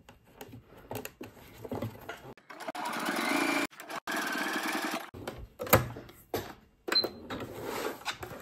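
A sewing machine stitches through braided cord while a cord bag is being sewn, running in several loud mechanical bursts of a few seconds each, separated by short pauses and handling noises.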